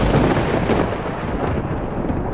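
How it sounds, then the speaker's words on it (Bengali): Thunder in a storm scene, a dense, loud rolling rumble that fills the whole short stretch, with no voices over it. "সেই সময় দেখি জোরে জোরে বাজ পড়তে শুরু করেছে।"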